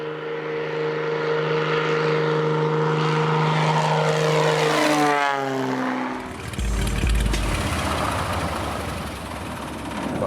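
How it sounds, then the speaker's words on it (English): A small propeller plane runs up at a bush airstrip in Alaska, its engine droning steadily and then rising sharply in pitch before giving way to a broad, rumbling roar as it powers away, loud and close throughout. "the plane has landed at Joseph Airstrip to unload camera guys and gear. Once it's empty, it's off to pick up Bob"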